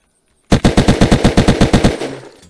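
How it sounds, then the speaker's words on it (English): Gunfire in the video game Unturned, a loud burst of about a dozen rapid, evenly spaced shots starting after a short silence and ending with a fading rumble, with no voices. "Is that a shotgun?"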